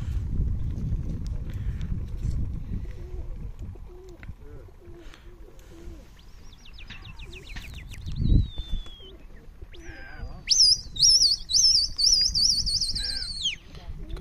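Racing pigeons at a pigeon-flying tournament burst into flight with flapping wings, soft coos and chirps, ending in loud high whistling tones, with voices murmuring in the background.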